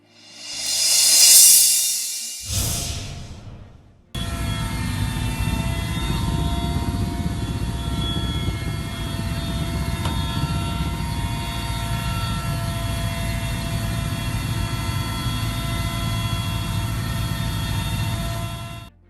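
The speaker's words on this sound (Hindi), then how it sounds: "वीडियो में हेलीकॉप्टर के जरिए पानी गिराकर जंगल की आग बुझाने की कोशिश हो रही है" A helicopter drops water on a forest fire in Alwar district, Rajasthan; after a short rushing burst, its rotor and engine drone steadily, loud and close, with no voices.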